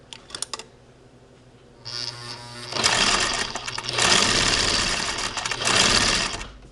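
A sewing machine stitches through knitting layered over two layers of muslin, starting with a few short taps, then running in loud sustained bursts with brief slowdowns between them, close by and with no talk.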